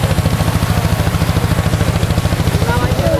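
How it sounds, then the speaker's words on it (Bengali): Fishing trawler engine at a coastal fishing harbour, heard as a steady, loud low-pitched diesel throb with regular rapid pulses throughout, running alone without talk. "যা ট্রলার দেখছেন সবই ফিশিং ট্রলার।"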